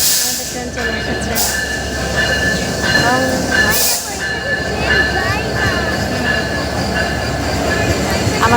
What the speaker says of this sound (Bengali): ট্রেন আসার সময় ট্রেনের এই সাউন্ডটা কিন্তু আমার কাছে অনেক ভালো লাগে শুনতে